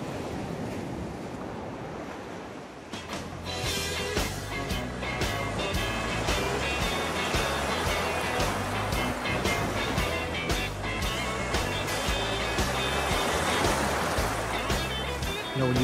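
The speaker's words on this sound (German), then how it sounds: "es gibt die größten Wellen" Ocean surf breaking on the coast of Maine, a loud, continuous roar of big waves, building after a quieter opening and persisting with rumbling wash and wind noise throughout.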